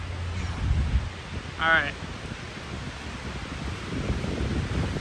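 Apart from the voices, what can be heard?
strong wind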